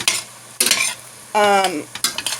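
Lean ground beef browning in a pan while being stirred, loud close scraping strokes over a steady sizzle, with a brief ringing clink of the utensil against the pan.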